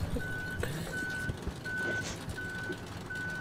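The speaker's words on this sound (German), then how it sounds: "LKW außer Kontrolle." An out-of-control truck in the Human Fall Flat video game sounds steady, evenly spaced reversing beeps over a low rumbling engine, loud and continuous with faint clatter.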